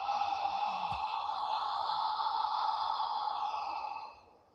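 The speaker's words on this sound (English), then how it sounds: "open mouth exhale like you're fogging a mirror" A slow, open-mouthed exhale for Ujjayi yoga breathing, a steady hushed breath like fogging a mirror that holds for about four seconds and then fades away, close and quiet with no talking.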